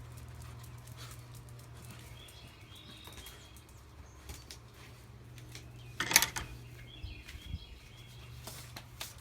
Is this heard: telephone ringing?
no